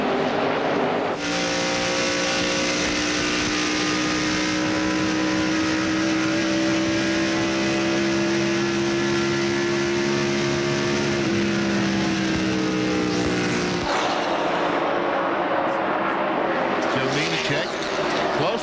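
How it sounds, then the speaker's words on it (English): NASCAR Winston Cup stock cars racing at Atlanta Motor Speedway in the 1996 NAPA 500, a loud sustained engine drone with shifting pitch as the pack passes, then a fresh roaring sweep near the end, with commentary underneath. "Bobby Hamilton has passed Dale Jarrett for 5th place."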